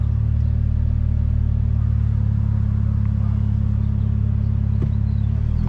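Fiat Strada 1.3 pickup running on ethanol, fitted with 205 tyres, its engine droning steadily and loudly with a heavy low rumble throughout, no speech over it.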